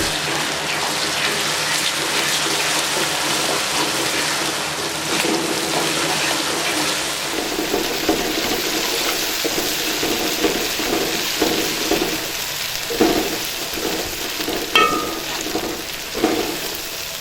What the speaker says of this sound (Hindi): हरी मिर्चें डालेंगे। बिस्मिल्लाहिर्रहमानिर्रहीम। अच्छे तरीके से फ्राई करेंगे।